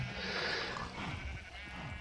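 Sheep bleating in a survival video game: a short, fairly quiet bleat or two that wavers, heard on its own with no talking.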